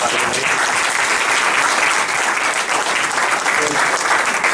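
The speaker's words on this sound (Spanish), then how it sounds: "Un aplauso para" A crowd applauds steadily, dense and loud clapping that holds at an even level throughout.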